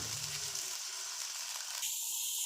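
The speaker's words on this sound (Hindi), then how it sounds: "घी हमारा गर्म हो चुका है। अब इसमें हम शामिल कर देंगे प्याज।" Onions sizzling in hot ghee for bharva bhindi, a steady close hiss of frying that brightens and sharpens near the end, with no talking.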